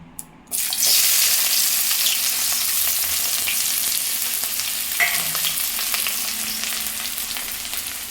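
Chopped onion sizzling in hot oil in a pan, a continuous close crackle that starts abruptly and holds steady throughout, with no voices.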